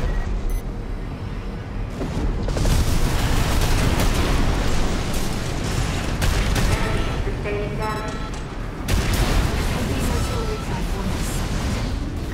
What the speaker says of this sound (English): We blew up the big fuck-off cannon that only exists in this hole.